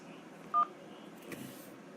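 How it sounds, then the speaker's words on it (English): A single short telephone keypad tone, pressing 1 to accept a call, sounds once over faint background hiss. "To accept, press 1."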